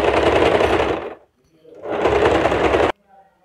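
Sewing machine stitching fabric in two loud, close bursts of fast buzzing, separated by a short pause and ending abruptly.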